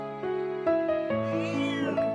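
A cat meows up close in several drawn-out, wavering cries, one rising into a long plaintive wail.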